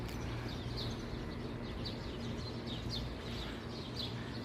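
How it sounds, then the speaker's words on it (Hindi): Morning sparrow chirps in Mecca come as faint, repeated high tweets spread across a quiet outdoor background, with no voices. "सुबह का टाइम है और चिड़ियों के चहचहाने की आवाज़ आ रही है।"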